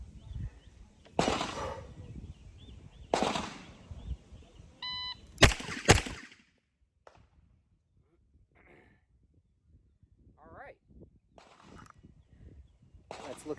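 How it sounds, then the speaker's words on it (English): Two pistol shots ring out at an outdoor shooting range, loud, close and a fraction of a second apart. Quieter sounds come before them, and faint shuffling follows. "I'm gonna fire 2 shots."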